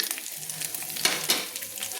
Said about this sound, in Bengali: তো আমার ফোড়ন রসুন সব কিন্তু তেলের মধ্যে ভাজা হয়ে গেছে